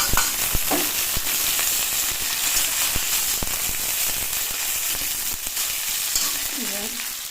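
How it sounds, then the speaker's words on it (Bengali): Garlic and green chillies fry in hot oil with a loud, dense crackling sizzle and scattered pops, close up and steady throughout. "গরম হয়ে গেছে, এখন তেল দিয়ে দিলাম। রসুনগুলো দিয়ে দেবো, দিয়ে কাঁচা লঙ্কাগুলো"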